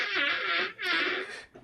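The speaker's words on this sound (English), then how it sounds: "You're farting on the Doritos spaghetti and bacon meatballs?" A fart from a cartoon character named Cobra in a cooking scene, heard as a long, loud, buzzing, strained blast, briefly broken and then resuming, with no talk over it.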